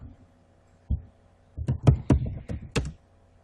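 Keystrokes on a computer keyboard entering a version command in an HBase shell, a single tap followed by a quick cluster of clicks, close and fairly quiet.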